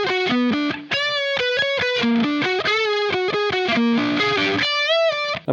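Electric guitar with heavy distortion runs through the full opening section of the Incubus "Rogues" riff, a continuous string of punchy, rhythmic single notes played loud and up front, with no talking.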